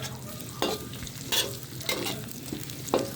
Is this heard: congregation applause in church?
no